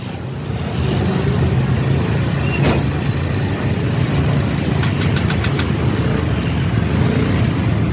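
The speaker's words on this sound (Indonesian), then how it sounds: "Itu ada mobil lewat." A car on the road near a roadside accident scene, its engine a loud, steady rumble that starts up after a quiet half second and keeps running close by, with a few sharp clicks partway through.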